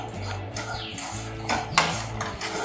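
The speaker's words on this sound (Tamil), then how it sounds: "ஒரு 2 மினிட்ஸ் நல்லா இதெல்லாம் பிளெண்ட் ஆகிற மாதிரி வறுத்துக்கலாம்." Semolina being roasted and stirred in a pan, a metal spoon scraping and knocking against the pan in uneven strokes with a low hum beneath, close and fairly quiet.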